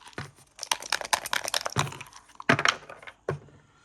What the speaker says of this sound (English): You can hear the dice hitting the wood.